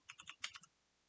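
A short burst of about seven keystrokes on a computer keyboard, close and quiet, ending abruptly into near silence.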